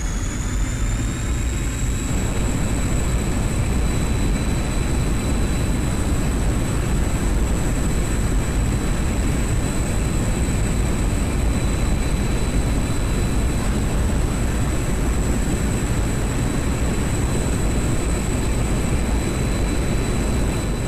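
A MiG-21bis jet rolling on its landing gear in the DCS flight simulator, a loud, steady, unbroken engine roar with a constant high whine sustained throughout.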